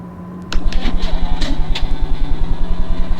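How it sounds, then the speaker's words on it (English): A tank's engine in a combat scenario drones with a steady, rapid mechanical throb that starts abruptly and stays loud and close. "we got another tank coming up"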